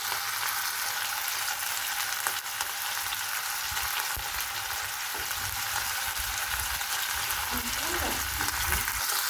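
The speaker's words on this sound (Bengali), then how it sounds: "চুলার আঁচটা আমি মিডিয়ামে রেখে শাসলিকটা ভেজে নিচ্ছি" Chicken shashlik frying in soybean oil on medium heat gives a dense, even sizzle that holds steady throughout, with a few low knocks and a faint murmur near the end.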